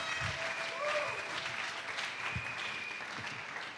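A church congregation claps in sustained, even applause, fairly close and full, with a few faint voices rising over the clapping.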